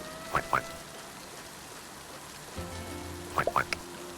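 Soft, steady patter of rain in the video game Littlewood, with a few brief chirping tones rising above it and a low hum joining partway.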